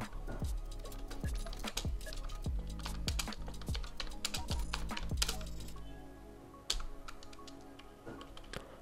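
Rapid clicking of computer keyboard keys in an irregular typing rhythm, close and steady, briefly broken by a louder knock near the end.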